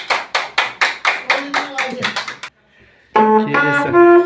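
About a dozen rhythmic hand claps close by, steady and evenly spaced before quickening slightly, then stopping, followed by a short quiet stretch and then sustained tonal sound.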